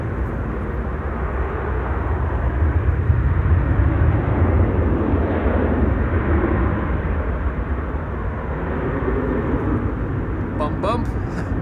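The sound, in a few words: Dreamliner airliner rolling for takeoff at Amsterdam Schiphol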